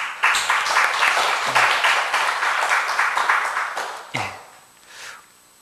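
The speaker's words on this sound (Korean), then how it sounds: "우리 담임 목사님께 감사의 박수를 올려드렸으면 좋겠습니다" A church congregation at a Sunday worship service gives a round of applause: dense, loud clapping for about four seconds that tails off, followed by a brief final swell of claps.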